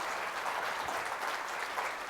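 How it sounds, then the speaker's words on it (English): Audience applause in a conference room, a faint but continuous patter of many hands clapping at a distance. "Big round of applause, please."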